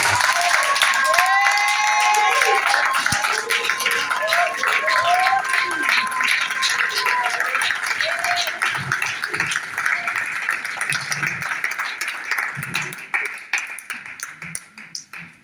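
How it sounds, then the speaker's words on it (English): A church congregation claps their hands for the Holy Spirit, loud sustained applause with bursts of cheering and some voices mixed in, gradually thinning and fading toward the end. "Let us clap our hands for the Holy Spirit."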